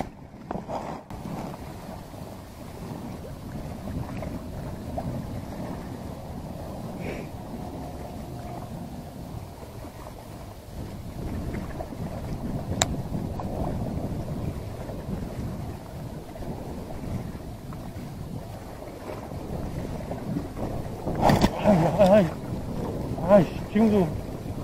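Strong wind buffets the microphone steadily while shore fishing, a constant low rumble that swells louder in the last few seconds, with no talking over it.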